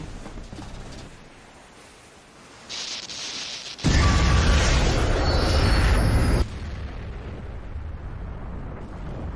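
Armin's colossal titan transformation in the Attack on Titan anime: a rumbling swell breaks into a huge, roaring explosive blast lasting a few seconds, then settles into a heavy sustained rumble, with no speech over it.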